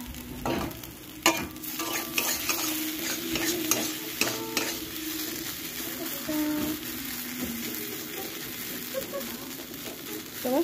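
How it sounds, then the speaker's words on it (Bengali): Food frying in a pan on a gas stove, stirred repeatedly until it dries down: a steady sizzle runs throughout, broken by scraping and clinking as the utensil moves against the pan, fairly close. "এই দেখো নেড়ে নেড়ে শুকনো করে নিয়েছি"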